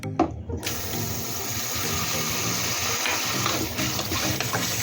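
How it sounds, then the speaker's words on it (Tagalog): Water pours out in a steady, close gushing stream, splashing continuously. "Alisin natin yung tubig"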